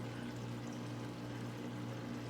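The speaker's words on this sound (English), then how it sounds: "And then water spills over" Water spilling over a divider into the filtration area of an aquarium sump, a steady, close trickling and splashing rush with a constant low hum beneath.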